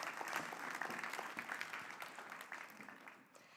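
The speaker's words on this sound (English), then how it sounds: "Can we give her another clap?" Audience at a school awards ceremony at Rolleston College gives a fairly quiet, distant round of clapping that thins gradually toward the end.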